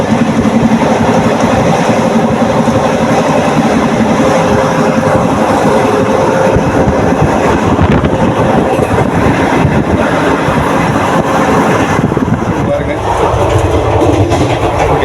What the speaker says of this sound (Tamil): வீல் சவுண்டு பாருங்க.